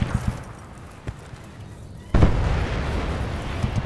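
In the video game Battlefield Bad Company 2, a sharp explosion blows up cover partway through, preceded by scattered distant pops and followed by a rumbling, sustained roar of debris and battle noise.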